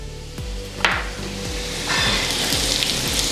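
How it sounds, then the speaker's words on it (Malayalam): Pappadam dropped into hot coconut oil, a bright crackling sizzle that surges as each piece hits the oil, with light utensil taps and scraping close by. "നമ്മുടെ പപ്പടം നമുക്കൊന്ന് ഫ്രൈ ചെയ്യാനായിട്ട് വെളിച്ചെണ്ണയിലോട്ട് ഇട്ട് കൊടുക്കാം"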